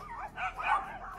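Dogs bark in quick, yappy bursts during a public confrontation, several short close barks and yips within about a second, fairly loud.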